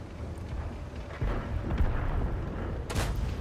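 A tank gun in World of Tanks fires two booming shots a couple of seconds apart, each a sharp heavy blast with a rumbling tail over low battle ambience.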